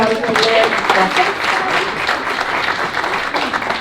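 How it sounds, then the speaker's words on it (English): An audience at a talk on new mobility in Texas gives a speaker a steady round of applause, dense and sustained for several seconds, with a voice mixed faintly into the clapping. "Can we give him another round of applause?"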